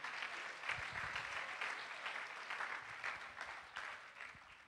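Church congregation giving applause as an offering of praise, a steady patter of many hands clapping at moderate distance, fairly quiet and sustained throughout without pause.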